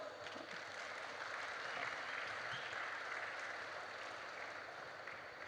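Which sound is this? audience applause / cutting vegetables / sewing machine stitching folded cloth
audience applause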